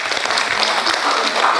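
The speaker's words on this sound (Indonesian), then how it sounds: "mari kita berikan tepuk tangan sekali lagi" A room full of participants at a teacher training session clapping together, a brief, even burst of applause with no voices standing out.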